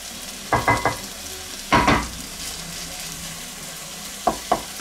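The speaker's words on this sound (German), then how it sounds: "Dann schmoren wir jetzt die Bohnen und den Knoblauch auch noch ein bisschen an." Green beans and garlic stir-fry in a hot wok, giving a steady sizzle with a few louder bursts of stirring and tossing, close by and with no talking.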